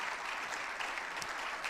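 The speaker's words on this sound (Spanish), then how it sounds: "Vamos a darle un fuerte aplauso a Cristo Jesús esta noche." A church congregation applauds during an evening worship service, a steady, dense wash of clapping that holds at an even level for the whole stretch without any talk over it.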